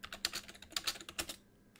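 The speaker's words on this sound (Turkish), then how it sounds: "klavyeye basınca ses çıkıyor" Quick bursts of clacking keystrokes on a computer keyboard during a Minecraft gaming session, close and crisp, then a brief pause before one more key press.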